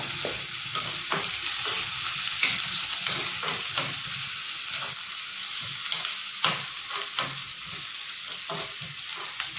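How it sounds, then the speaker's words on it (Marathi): Onion sizzles and crackles in hot oil in a pan, a steady dense frying hiss broken by occasional stirring scrapes and pops, close and fairly loud, with no talking. "आपलं तेल तापलेलं आहे, आपण कांदा घालायचा आहे आतमध्ये।"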